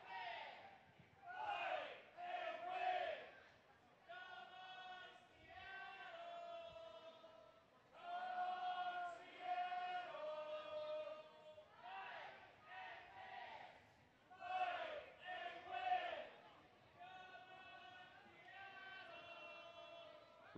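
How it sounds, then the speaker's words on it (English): Spectators at a soccer match in Seattle chant and shout encouragement for the home side, rhythmic crowd calls rising and falling in distinct waves, fairly faint and distant across the stadium. "Shouts from the crowd, come on Seattle. Trying to encourage their home side."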